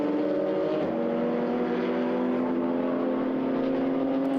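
A KTM race car on the track at the Hungaroring during a GT race, its engine a steady loud drone with a strong harmonic whine that shifts pitch slightly as it passes, continuous for a few seconds with no talk.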